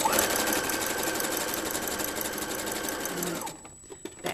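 A sewing machine stitches a zipper bag in a steady, fast continuous whir for about three and a half seconds, then stops, leaving faint clicks and handling sounds.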